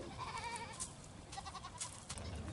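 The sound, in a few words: goats bleating on a farm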